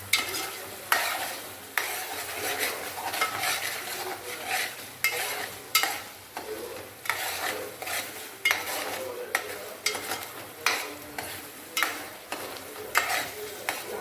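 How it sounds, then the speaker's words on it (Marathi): Onion fries in oil with a constant sizzle, while a spoon scrapes and taps the pan in a regular stirring rhythm, close and without speech. "कांदा भाजून घेतला, तेल सुटत तवर तेल सुटलं का मग टाकायचं"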